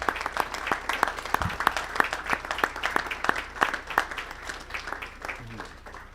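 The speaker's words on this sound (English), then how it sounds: "If we could give these students a round of applause," Applause for National Merit finalist students at a school board of education meeting, a thinner group whose separate claps sound distinctly and fairly evenly in a moderately quiet room.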